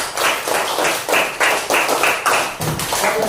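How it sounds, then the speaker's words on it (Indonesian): Classroom audience applauding a group presentation, loud close clapping in several rhythmic bursts that swell and fade, with no speech over it. "Tepuk tangannya yang keras."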